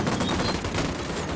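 Dense, continuous gunfire in the video game Ghost Recon Wildlands, a loud sustained volley of overlapping shots with no clear gaps, close and without speech.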